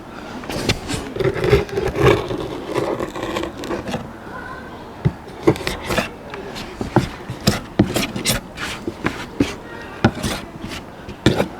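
Old butyl putty tape sealer scraped off an RV roof around a vent opening, with repeated sharp rasping strokes in an uneven rhythm, close and fairly loud, plus a brief stretch of talking.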